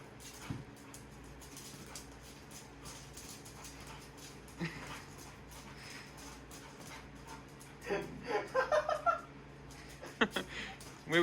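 A dizzy dog whimpers after chasing a laser pointer indoors, with quiet rustling and movement for most of the stretch before a cluster of high, wavering whines near the end.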